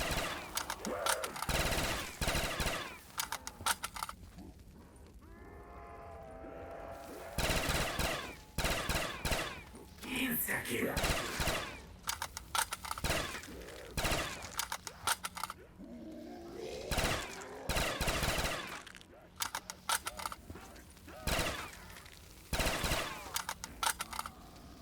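Rapid automatic gunfire during a shooting puzzle in a Zenith video game, loud bursts of machine-gun fire repeating in rhythmic volleys with short pauses between them.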